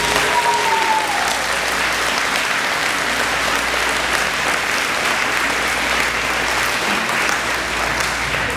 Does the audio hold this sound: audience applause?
yes